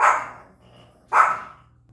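A dog at home lets out two loud, sharp barks about a second apart, each trailing off quickly, with quiet room tone between them.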